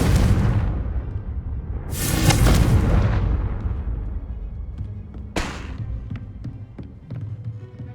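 A Confringo fire spell blast from Hogwarts Legacy gameplay, heard as a loud booming burst around two seconds followed by a sharper second impact, over continuous game ambience with rumbling low end.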